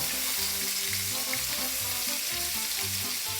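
Meatballs frying in a pan give a loud, continuous sizzle, with soft scraping and knocking as a spoon swirls them around underneath.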